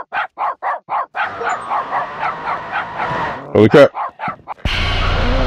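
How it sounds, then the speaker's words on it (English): A dog barks in a rapid series of sharp, loud yaps close by, alongside excited speech and an exclamation, before a steady hum takes over at the end. "Holy crap! It's a dog."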